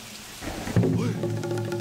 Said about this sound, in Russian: Дождище!